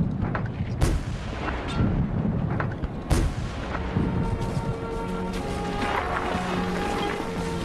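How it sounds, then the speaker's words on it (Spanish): Heavy First World War cannon fire booms out in several deep blasts over a continuous rumbling battlefield din, loud and dense with no voices. "Un cañonazo directo tras otro"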